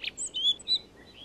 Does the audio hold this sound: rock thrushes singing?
yes